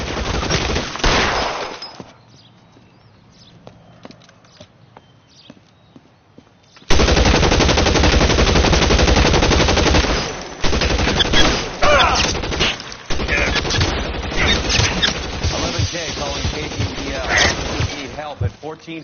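Intense automatic gunfire in a PS4 police action game, long sustained machine-gun bursts with brief pauses, loud and close, following a quieter stretch where a voice talks over the game.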